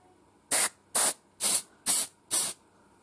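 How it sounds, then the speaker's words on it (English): Five short, sharp bursts of smoke detector test aerosol spray hiss out in an even rhythm, close and loud, with brief silences between each spray. "So I've got some smoke spray"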